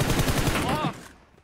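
Rapid bursts of gunfire in PUBG Mobile crackle for about a second, loud and dense, then cut off into quiet.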